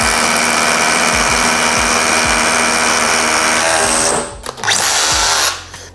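A Makita power drill runs under load with an SDS bit, giving a loud, close, steady grinding whine with rhythmic hammering pulses. It stops abruptly near the end, and nobody speaks.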